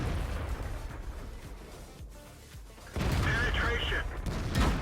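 Tank shell glancing off the upper front armor plate of an E50M in World of Tanks, a loud clanging impact burst about three seconds in, amid ongoing rumbling battle noise and engine drone.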